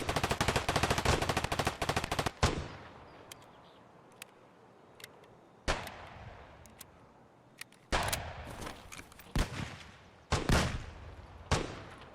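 Gunfire in the video game Escape from Tarkov on the Reserve map: a long rapid automatic burst, then scattered single shots and short bursts separated by quieter gaps.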